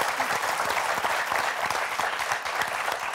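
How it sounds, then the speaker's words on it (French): Sustained applause from a TV game show studio audience on Motus, many hands clapping in a thick, continuous wash that holds steady for a few seconds. "et si on applaudissait Evelyne et Philippe, bravo."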